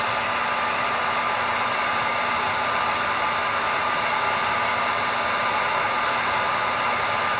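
A heat blower runs steadily and loudly without a break as it warms the vinyl skirt of an offshore trolling lure. The broad airy whoosh carries a faint tonal whine, and no one speaks.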